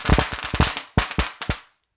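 Small handheld firecrackers going off outdoors in a quick string of sharp, crackling pops, loud and close, ending abruptly after about two seconds.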